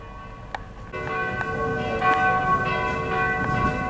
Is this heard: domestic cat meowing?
no